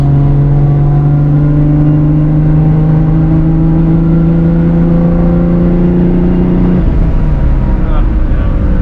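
A powerful modified car engine, following another car home from a Cars and Coffee meet, drones loudly and close while driving, its deep steady tone slowly rising in pitch before easing off near the end.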